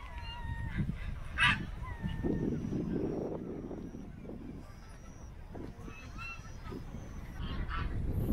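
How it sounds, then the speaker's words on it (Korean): Geese honking at a farm park among flower fields, several calls scattered across the clip at moderate distance over outdoor ambience, with some faint talk. "거위도 있나 본데?"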